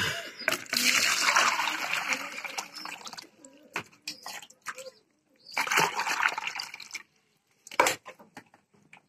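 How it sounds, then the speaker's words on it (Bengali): Water poured out for pigeons into their drinking spot, heard as several separate bursts of splashing and trickling broken by quiet gaps and a few sharp clicks. "এখন এখানে পানি দেওয়া লাগবে, পানি নিয়ে আসি।"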